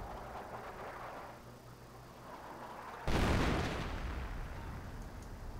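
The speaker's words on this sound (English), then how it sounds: "COs have what they need to call in artillery." British artillery in Company of Heroes fires with a sudden heavy boom about halfway through, then a rumbling blast that fades slowly over the constant hum of battle.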